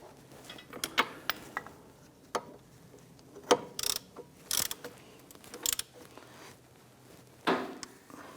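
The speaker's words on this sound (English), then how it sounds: "we'll go ahead and grab our ratchet and snug those down" A hand ratchet snugging down brake caliper bracket bolts on a 2011-2021 Jeep Grand Cherokee, with quick clicking bursts and sharper metallic ticks scattered across the clip, close and clear with no talk.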